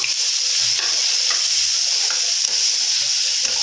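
Soybean chunks frying in oil in a pan make a loud, continuous sizzle with a bright hiss, close by, with soft bubbling pops underneath and no voices.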